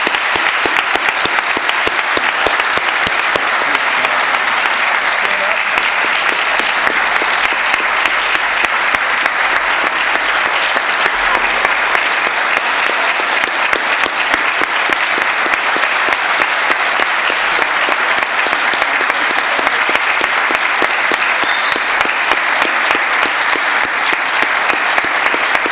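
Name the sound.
audience applause for Hall of Fame inductees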